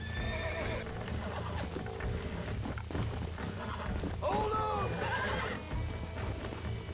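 Horse in the video game Red Dead Redemption 2 on a ranch, whinnying and neighing with clip-clopping hooves throughout, a loud neigh near the middle, while someone talks and gives commands over the sounds.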